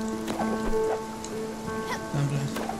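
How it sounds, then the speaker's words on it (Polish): Steady rain falls in the video game Spiritfarer, a soft continuous patter with scattered drops, mixed under quiet tonal game music with no talking. "Na razie jest zwykły deszcz."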